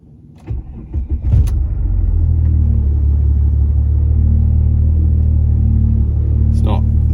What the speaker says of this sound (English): I figured that involves starting the car